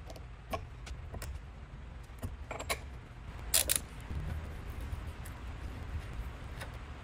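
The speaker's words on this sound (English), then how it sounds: "Now I need to remove the cotter pin and the nut." Removing the cotter pin and nut from the axle of a Land Rover Series III yields faint metallic clicks, scrapes and small taps, sparse and close, over a quiet low hum.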